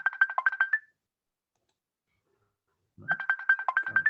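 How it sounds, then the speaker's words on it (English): A mobile phone ringtone plays in two bursts of rapid electronic warbling tones, separated by about two seconds of silence. It is fairly loud and close, with no talk over it. "it's the phone."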